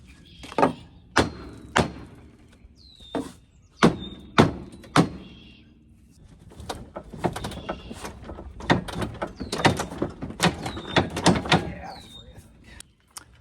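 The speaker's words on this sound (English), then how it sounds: "I'm gonna get a rubber mallet and bang on this." Rubber mallet banging on a damaged Polaris RZR Ace cargo bed during a repair, giving a series of loud, dull thunks in uneven bursts, some close together and some spaced apart, with quieter knocks between.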